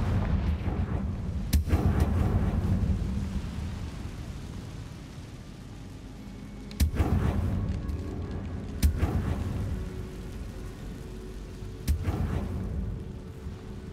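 Spell blasts from the Confringo fire curse in Hogwarts Legacy: sharp booming bursts at irregular intervals, about five of them, each with a rumbling tail over a low, steady game background.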